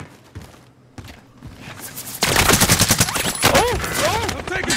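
Rapid bursts of gunfire in Call of Duty Warzone Rebirth quads, sparse shots at first and then a dense close volley, with players talking over it.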